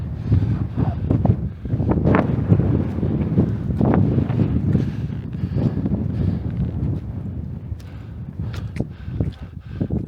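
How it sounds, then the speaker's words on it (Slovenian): Strong wind buffets the microphone on a freshly snow-covered winter mountain ridge, a loud continuous low roar with gusty surges throughout and no other clear sounds. "Sicer je jutri napovedan, da bo močnejši veter, pa tudi že danes kar lepo brije."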